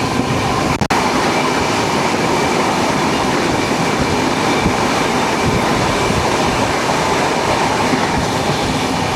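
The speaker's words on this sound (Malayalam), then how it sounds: "തിരുവനന്തപുരം മംഗലാപുരം വന്ദേ ഭാരത് എക്സ്പ്രസ് ഇതേ കയറി വരുന്നു" Vande Bharat Express, a sixteen-coach Thiruvananthapuram–Mangaluru train, rolling in with a loud, continuous rumble and wheel clatter, a brief sharp knock near the start, no voices.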